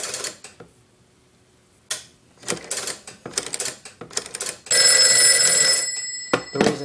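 Slow rotary dialing on a Northern Electric 233QF three-slot payphone, with close mechanical clicks and dial-return whirs in separate bursts broken by pauses, then a loud sustained ring-like buzz partway through.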